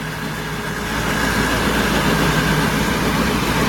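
A Chokwichit combine harvester engine runs steadily under test, a loud continuous low rumble with a strong mechanical drone that swells slightly after the first second and holds without talk.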